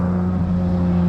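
Porsche 992 GT3 RS engine with RYFT exhaust, a steady loud droning hum held for about a second, with no talking.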